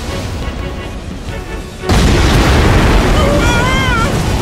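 A loud explosion in the video game Astebreed bursts in suddenly partway through, a broadband boom that holds as a sustained roar, with game sound effects sweeping over it afterward.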